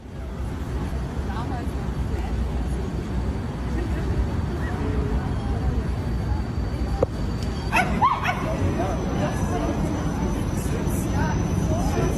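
Several dogs on a walk bark, yip and whimper in short bursts, heard through a replayed recording under steady background noise, with a voice talking over it.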